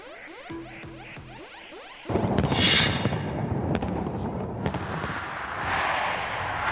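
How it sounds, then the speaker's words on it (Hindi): New Year fireworks burst over Mumbai at midnight, a dense, loud crackle and rumble of distant explosions that starts abruptly after two seconds of quieter popping and continues as a sustained wash. "रात 12 बजते ही यहां भी आतिशबाजी हुई।"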